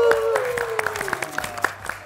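A studio audience gives applause, a steady patter of clapping hands over a sustained tone, with talking mixed in.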